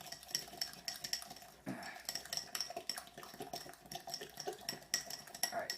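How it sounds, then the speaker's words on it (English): A fork clinks and scrapes against a small dish while mixing pickled plum paste, making quick, close, irregular metallic taps and stirring scrapes with no voices. "let's get a fork and mix it all around for a few seconds so it's a nice looking"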